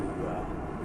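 Small DC motor spinning at about 5,000 RPM under low-voltage speed control, a steady continuous whine and hum that holds level throughout, close and fairly loud.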